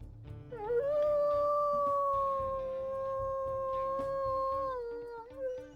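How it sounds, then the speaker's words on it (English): A wolf howl from the video game WolfQuest Ultra: one long, loud howl that rises quickly, holds a steady tone for several seconds, then falls away, with nothing else heard. "let's go ahead and we'll listen to Wish's howls here"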